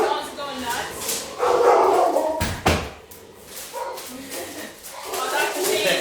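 Dogs bark in a kitchen during snack preparation, loud and repeated over people talking nearby.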